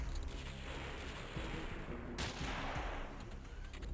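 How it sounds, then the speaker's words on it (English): Grenades going off in the video game X-piratez, a dense, continuous wash of booming blasts and crackling gunfire-like noise, loud and sustained throughout, with a sharper burst partway through and no talking. "The grenades are gonna go off now."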